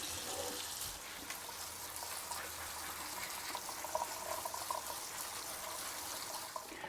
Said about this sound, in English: give your LECA a good rinse